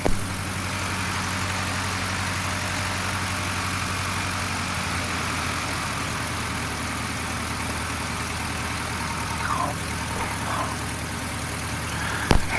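A Corben Jr Ace light aircraft engine idles while warming up, a steady loud low drone with an even throb that continues without a break.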